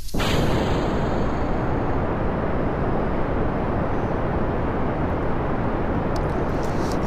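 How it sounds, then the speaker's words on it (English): Solid fuel rocket boosters roaring at launch in Kerbal Space Program, a dense, loud, continuous broadband rumble that starts abruptly and holds steady without letting up. "Because these are solid fuel boosters underneath, there's nothing I can do to throttle them down."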